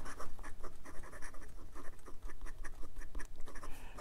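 A MaJohn P136 piston-filler fountain pen with a steel nib writes on paper, giving a close, continuous scratchy rustle broken into quick strokes of varying rhythm.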